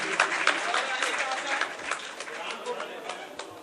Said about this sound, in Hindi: जोरदार तालियां हो जाएं इनके लिए भी।